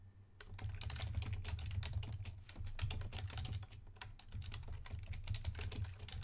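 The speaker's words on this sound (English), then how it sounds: "Okay, we're typing that in." Rapid, irregular clicking of keys on a computer keyboard, close and steady, with brief pauses between bursts and no speech.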